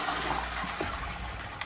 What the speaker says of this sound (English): Just flushing the toilet.